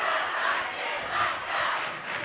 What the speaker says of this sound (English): the Bulldog crowd urging the Bulldogs